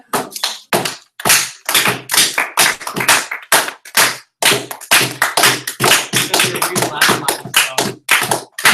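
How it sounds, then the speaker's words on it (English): Audience applause for a student at a final class showcase, a burst of sharp, fairly close hand claps in quick irregular clusters with brief gaps, loud and continuous throughout. "Nice round of applause for Adam"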